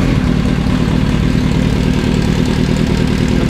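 A Mazda RX-7 VeilSide idles steadily up close, its rotary engine holding a loud, even low rumble without pauses.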